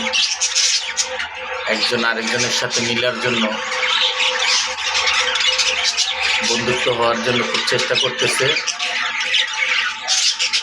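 Newly paired budgerigars in a cage, squawking and chattering in busy, repeated bursts close by while someone talks over them.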